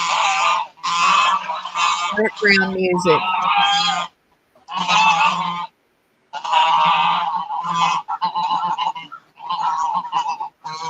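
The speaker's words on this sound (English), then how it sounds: "I did want y'all to hear the ducks though" Ducks call outdoors in loud, close, rapid bursts of harsh nasal quacks and honks, repeating in clusters with brief pauses between them.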